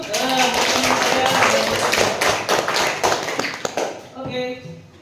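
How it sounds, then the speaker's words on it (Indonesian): Classroom applause for a group coming forward, a dense run of hand claps from many students lasting several seconds, then thinning out near the end as a voice speaks. "Tepuk tangan dulu."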